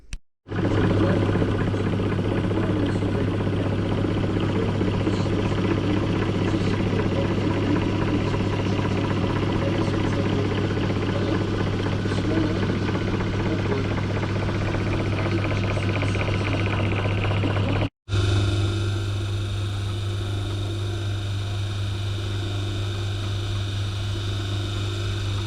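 A lathe turns a part slowly with a fresh carbide tip and plenty of cutting oil, giving a steady, loud machine drone with a constant low hum throughout, a brief cut near the end, then a quieter tonal run.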